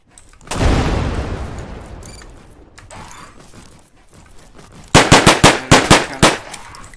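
Gunfire from pistol-wielding enemies in a video game: a loud blast with a long decaying rumble, a quieter shot, then a rapid burst of five or six sharp cracks in quick succession.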